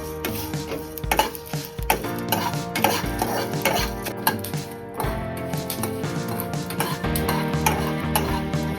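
Chicken green masala frying in a pan over a low flame, with steady stirring and scraping of a utensil against the metal, frequent clinks and knocks over a continuous low sizzle, close and fairly loud throughout.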